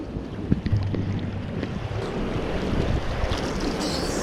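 A flowing river or creek on an outdoor nature trip gives a steady, close broadband rush of water, heavily mixed with gusting wind buffeting the microphone, with no voices.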